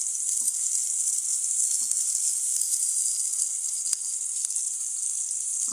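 Vegetables with onion and chilli sizzle loudly in a pan, a continuous bright frying hiss close up with faint occasional stirring knocks.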